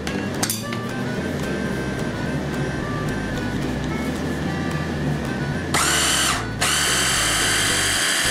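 A food processor blends a walnut and garlic sauce for Georgian satsivi. A loud, continuous motor whir runs throughout, with a brief pause and a change in pitch near the end.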